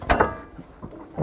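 On a Dodge snow plow, a small lever is pulled, giving a couple of sharp metallic clicks followed by a faint rattle, close by.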